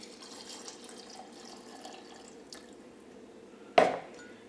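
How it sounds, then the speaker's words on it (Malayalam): Coconut milk is poured into a blender jar of ground rice for Kerala-style achappam batter: a short, sharp liquid splash breaks a quiet kitchen hum near the end. "ഇതിലേക്ക് തേങ്ങാപ്പാൽ ഒഴിക്കുക."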